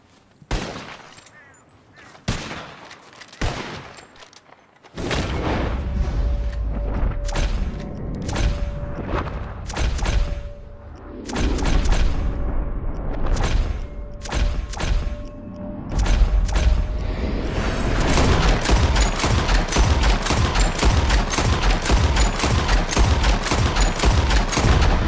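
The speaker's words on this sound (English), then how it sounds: "You shoot four birds out of the sky before me, you win." Gunfire in a bird-shooting contest in Red Dead Redemption 2: several sharp separate shots at first, then a dense, loud barrage of repeated blasts and booms that continues almost without a break.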